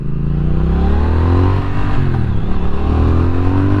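A 2021 Triumph Speed Twin motorcycle engine accelerates in sport mode, a loud, close, steady growl whose pitch climbs and dips through the gears, with no voices.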